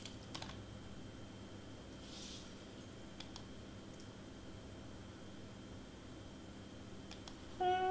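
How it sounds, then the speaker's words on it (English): Faint, sparse key taps and clicks from a computer keyboard as a name is typed in all caps, quiet and spread out over a low steady background hum. "I'm gonna type Avery in all caps"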